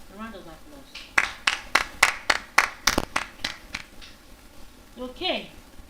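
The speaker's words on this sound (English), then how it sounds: "A round of applause." A round of applause at a public speaking event in Nigeria: about a dozen sharp, rhythmic claps in quick succession, loud and near, with brief spoken voices before and after.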